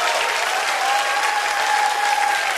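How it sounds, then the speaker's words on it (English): A church audience claps steadily and loudly throughout, a dense wash of many hands with no pauses, with a faint sustained tone beneath. "clap your hands if you believe it"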